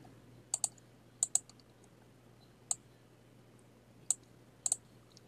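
A computer mouse clicks a handful of times, mostly in quick pairs with pauses between, crisp and close against a quiet room hum.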